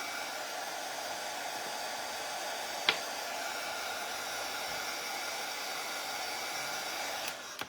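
A hair dryer runs steadily throughout, drying a corrugated cardboard craft piece with a constant, even whoosh, a sharp click near the middle and a slight change as it winds down at the end.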